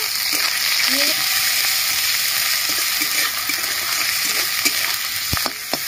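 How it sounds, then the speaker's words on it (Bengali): Ginger-garlic paste frying with onions in hot oil for potol dalna, a loud, continuous sizzle with scattered stirring knocks and a sharp clack near the end. "আদা রসুন বাটা দিয়ে দিচ্ছি। তেলের মধ্যে ভালো করে একটু"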